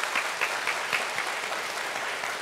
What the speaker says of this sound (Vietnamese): các bạn thí sinh sẽ được nhận một tràng vỗ tay thật nồng nhiệt từ phía quý vị khán giả